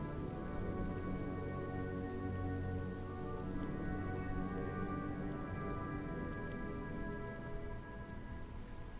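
Steady rain falls at an industrial harbor lined with supply crates and metal shipping containers in the game Disco Elysium, a dense continuous patter with a low ambient hum underneath and no speech.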